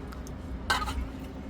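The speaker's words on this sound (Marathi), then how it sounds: "पातेलं धुणं चालू आहे." A cooking pot is being washed, with one short metallic clatter rising over a quiet, low background hum.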